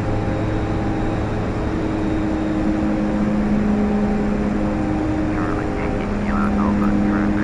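The twin turboprop engines of a DHC-6 Twin Otter in the FSX flight simulator drone loudly and steadily, their humming tones shifting lower as the throttle eases back.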